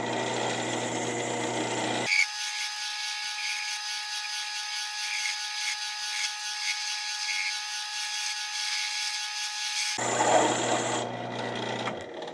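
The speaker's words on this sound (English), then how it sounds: "now I'm going to use a spindle gouge and kind of take this one down to the bushing" A spindle gouge cuts an olive wood pen blank spinning on a lathe, a steady high whirring hum with a thin scraping edge, bracketed by the motor spinning before and after the cut.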